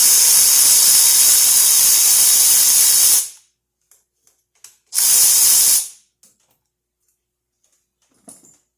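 A ratchet removes the 10 mm bolts on a fuel line of a Cobalt 2.2L engine, heard as two loud, close bursts of rapid clicking separated by a pause, followed by faint ticks.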